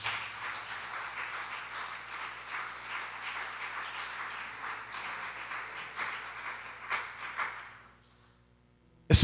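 A church congregation claps firmly and continuously in praise to Jesus, a dense even patter of many hands for about eight seconds that stops abruptly into silence.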